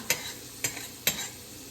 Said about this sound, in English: So I'm just going to brown this garlic up, just that it gives me just a tint of brown to it.